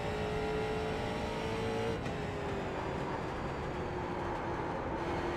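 A race car in the iRacing simulator runs flat out around an oval, its engine a loud, sustained high drone with a slowly shifting pitch through the corner, steady throughout with no talk.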